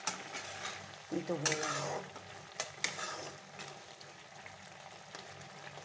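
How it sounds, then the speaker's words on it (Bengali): Bitter gourd pieces are stirred and fried in a pan, a close sizzle broken by a few scraping strokes of the spoon, while someone briefly speaks. "এবার করলাগুলো দিয়ে দিলাম, এবার নাড়িয়ে দিলাম।"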